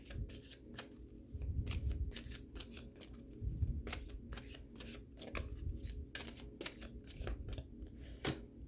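Tarot cards being shuffled by hand close up: quick, rhythmic papery riffles and flicks repeated steadily, quiet and alone.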